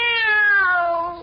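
A single drawn-out cat meow, clear and close, sliding slightly downward in pitch before trailing off.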